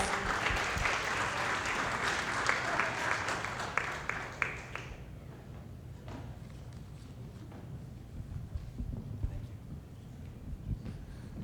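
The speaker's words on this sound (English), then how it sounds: "Let's give him a round of applause." Audience applause at a community forum celebrating immigrants, greeting a county public defender as he comes up to speak; a thick round of clapping lasts about five seconds, then drops away to a quiet room with scattered light sounds.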